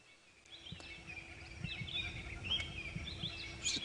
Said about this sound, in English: listen to the birds calling